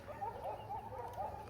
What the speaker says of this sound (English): Sorry about the dogs, people. Neighbor dogs.